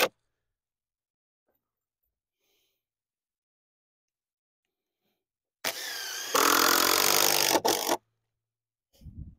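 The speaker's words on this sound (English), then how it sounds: "we throw a couple more screws in it" A power driver sinks screws into wood during a cabin build: near-silence, then one loud whirring burst of about two seconds, followed by a short second burst at the end.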